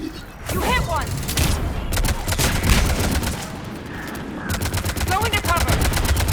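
Continuous rapid gunfire from a firefight in Mass Effect 3, dense overlapping bursts and automatic fire at close range throughout, with a brief voice breaking through the shooting.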